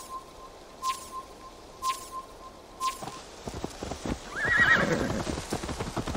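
A horse in the game Assassin's Creed Valhalla gives a few sharp single whinny-like calls, then clip-clops close by with hooves scuffing and shuffling restlessly.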